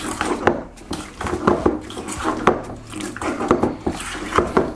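A potato salad with coriander, chili and gherkins is stirred in a bowl, giving irregular clinks and scrapes of a utensil against the dish, with soft wet squelches between the knocks.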